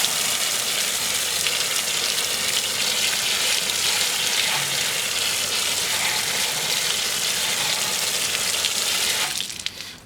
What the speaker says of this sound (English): I'm gonna go ahead and rinse that down now